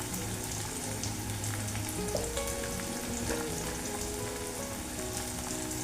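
A bay leaf hits hot oil in a pan, and a dense, continuous sizzle with fine crackles holds at a steady, close level from start to finish.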